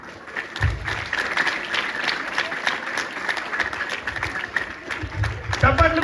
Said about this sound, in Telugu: చప్పట్లు కొడితే కూడా ఒక్కసారి కూడా చప్పట్లు కొడతారు మీరు.